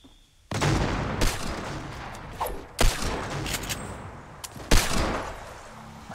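Sharp bursts of Fortnite gunfire crack out in quick volleys, several close, loud shots spaced a second or two apart over a faint background of game noise.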